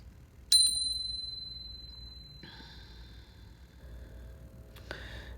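A single bright bell strike rings out and decays slowly, followed later by a second softer chime and another light ding near the end, over quiet room hum.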